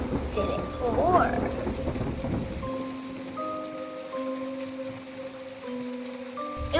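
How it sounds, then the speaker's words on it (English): Thunderstorm with steady rain on a dreary day around a house: a broad rumbling roll of thunder rises near the start, then rain hisses on as a continuous wash while a faint tonal drone runs underneath. "Thunder was booming and the rain didn't pour."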